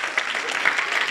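A church congregation claps hands together in worship, a dense, steady patter of many hands filling the room without a break.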